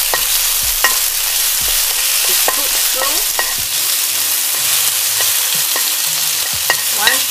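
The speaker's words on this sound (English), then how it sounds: "Separate the beef, make sure that it's not come together, and stir it" Beef is stirred and separated in a sizzling frying pan for flat rice noodles in thick gravy. A dense, steady hiss runs throughout, with occasional utensil scrapes close by.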